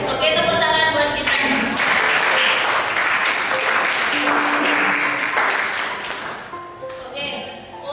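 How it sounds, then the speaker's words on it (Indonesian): A classroom of students applauds together, loud dense clapping that holds steady for several seconds and then thins out toward the end. "Oke, tepuk tangan buat kita."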